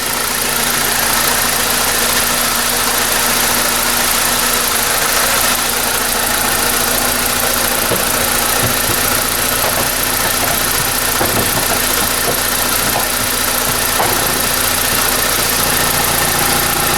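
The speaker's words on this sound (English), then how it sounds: "You can run your engine and make sure there's no leaks" A 2007 BMW 3 Series E90 M Sport engine idles steadily and loudly up close, with a constant hum and faint hiss, no voices present.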